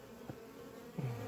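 A close, continuous buzz of honey bees droning around a hive, with a couple of individual insects swelling louder as they pass near.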